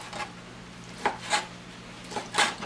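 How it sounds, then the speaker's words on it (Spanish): A knife dicing raw fish fillets into small cubes for Peruvian ceviche: a few sharp, close cutting taps on a board, spaced irregularly, over a faint steady background hum. "Así hacemos con todos los filetes. Los picamos en cuadritos."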